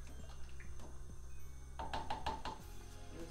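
A spoon stirs sugar in a pot for ginger wine, giving a handful of quiet knocks and scrapes followed by a short, faster run of clinks against the pot, close and soft.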